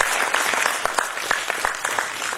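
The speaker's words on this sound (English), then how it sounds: "we should give them an applause" Audience applause after a Kathak classical dance performance, a steady wash of many hands clapping with a few sharper individual claps standing out, moderately loud and continuous throughout.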